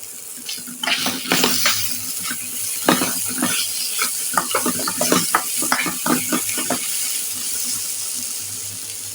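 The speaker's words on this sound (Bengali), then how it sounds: "এখানে কাঁচা টমেটো ভাজিটা হয়ে গেছে আর আমি এখন ধনিয়া পাতা দিয়ে দিচ্ছি" A green tomato fry with coriander leaves sizzles in a pan while a spatula stirs it in repeated, distinct scraping strokes over a steady hiss. The stirring stops near the end and the hiss continues.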